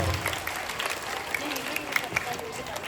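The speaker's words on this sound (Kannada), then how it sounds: "ಚಪ್ಪಾಳೆ ಮುಖಾಂತರ ಸ್ವಾಗತಿಸೋಣ ಎಲ್ಲರೂ" Applause from a school Children's Day audience, a brief patter of clapping with scattered sharper claps under ongoing voices.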